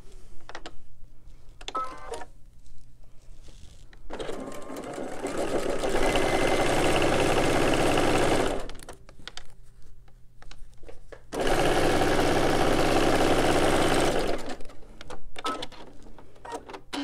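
A sewing machine stitches fabric pieces right sides together, running in two steady loud stretches of whirring with quieter pauses and handling noise between.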